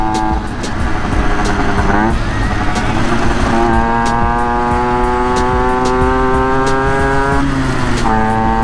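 A motorcycle fitted with a cornet exhaust, ridden at night, revs up through the gears, its engine note rising in pitch, dropping at each shift and climbing again, loud and close under wind rush.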